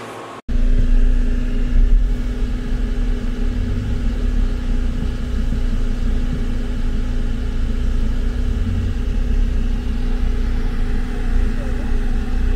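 A modified car drives along a street, its engine a loud, steady low rumble that holds close for the whole stretch after a sharp start.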